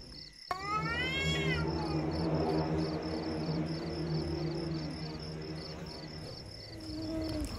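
A kitten abandoned in a gutter gives a rising, plaintive meow close by, then keeps up a faint crying, with a steady chorus of insects or crickets behind it.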